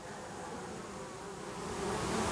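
Honeybees at the entrance of a hive, a dense, continuous buzzing hum close by that builds slightly louder toward the end, with no voices.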